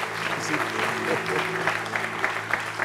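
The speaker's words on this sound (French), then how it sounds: "je vous demande d'applaudir très fort" Audience on a broadcast show applauds loudly and steadily, a thick patter of many hands while a voice speaks briefly and a sustained musical tone runs underneath.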